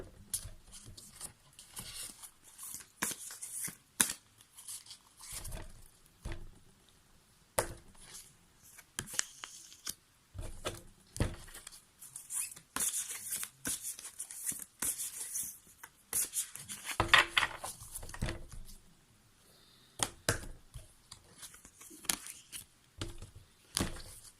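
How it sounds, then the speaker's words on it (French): Playing cards are taken out and handled close by, with scattered dry taps, shuffles and rubbing sounds in an irregular rhythm that are fairly quiet throughout. "Je vais sortir des cartes."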